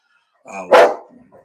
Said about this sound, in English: he's going to bark at me the whole time.